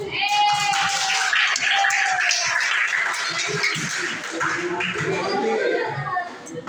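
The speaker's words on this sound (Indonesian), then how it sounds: "Berikan aplaus teman-teman semua" Children applauding in a primary school classroom, a continuous busy patter of many small hands clapping with chatter and voices mixed in, fairly loud and steady throughout.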